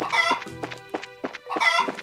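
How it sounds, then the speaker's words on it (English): Chickens in the village of the video game Trails in the Sky FC give a run of clucks and squawking calls in short bursts, clear and close with no talk over them. "And there's chickens here"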